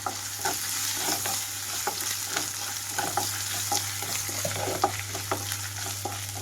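Ginger garlic paste and chilli flakes frying in a pan for Kerala-style brinjal roast, a steady hissing sizzle broken by frequent light stirring scrapes, with a constant low hum behind.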